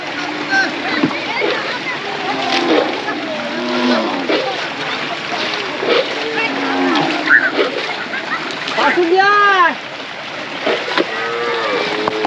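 Cows swimming across water to a raised river char, with repeated nearby mooing and splashing throughout; a loud burst of splashing stands out near the end.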